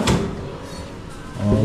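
A drawer slides open or shut in a room, a short scraping rub with a knock at the start and another bump at the end, fairly close.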